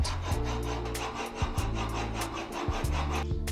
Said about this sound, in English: So now I'm just getting the angle for my chisel, which is going to be a 25-degree bevel, and do the same thing progressing to the grits